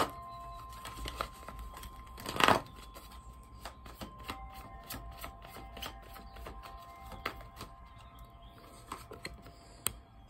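Tarot cards being drawn and shuffled by hand: soft, scattered clicks and flicks of card stock, with one brief louder riffling burst early on, close and quiet, with no talking.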